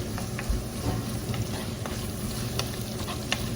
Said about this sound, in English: I'm going to wait a little bit for both the chili and the onion to be a little soft in the heat